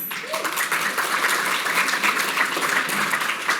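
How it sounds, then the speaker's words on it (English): Audience clapping at a city government event, steady dense applause from a crowd throughout, moderately loud and without speech over it. "Well, you're gonna clap again, because they're here today."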